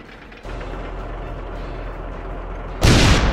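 Tank cannon shots in World of Tanks: a low mechanical rumble runs steadily, then a loud, heavy blast erupts near the end.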